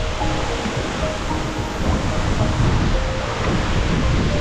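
Loud, continuous rushing of stream water flowing over stones, a dense, even roar close by with no pauses.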